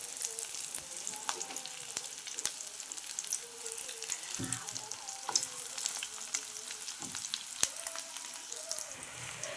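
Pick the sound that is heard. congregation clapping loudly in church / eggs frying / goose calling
eggs frying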